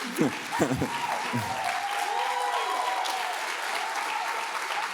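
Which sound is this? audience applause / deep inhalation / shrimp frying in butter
audience applause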